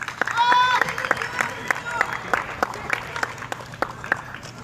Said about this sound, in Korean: 자, 환호하고 있습니다.